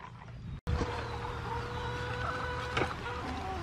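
Chickens cluck softly near a chicken hutch outdoors, faint scattered clucks over steady background hum, interrupted by a brief dropout.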